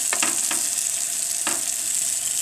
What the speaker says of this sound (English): it looks like things are frying really nice